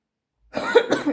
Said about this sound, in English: I was gonna cough.